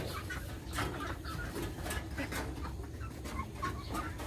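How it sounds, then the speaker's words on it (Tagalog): Chickens scattered around a Philippine farmyard give off scattered, soft clucks among other close farm noise, faint and busy, with no voices over them. "Ayun mga manok, nagkalat na."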